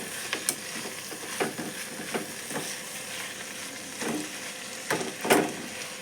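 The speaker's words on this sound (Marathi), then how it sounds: "आता मेथीच्या भाजीला आपण छानसं हलवून घेऊया." Fenugreek greens (methi bhaji) being stirred in a pan, with a soft steady sizzle under repeated scraping and clinking strokes of a spoon at irregular intervals.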